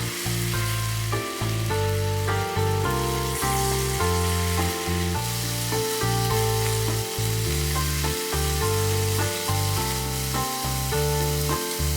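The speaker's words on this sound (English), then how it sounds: "Keep stir-frying until the sauce has almost evaporated and the beef is nicely glazed." Beef sizzles and hisses as it is stir-fried and glazed in sukiyaki sauce in a pan. The sizzle is steady and close, with rhythmic background music playing throughout.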